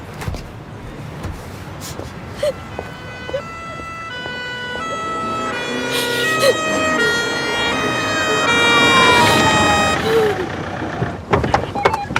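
An ambulance siren wails at an emergency scene, its rising and falling tone swelling louder over several seconds and then fading, with road traffic noise around it.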